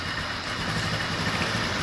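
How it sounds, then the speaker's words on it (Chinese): A scooter engine with a continuously variable transmission idles steadily, a low even drone with no change in pace. "好，现在是怠速，"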